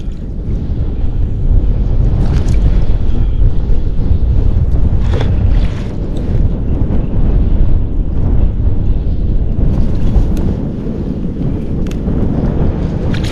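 Strong wind buffets the microphone in loud, continuous gusts aboard a fishing boat, layered over a low rumbling boat engine and splashing water.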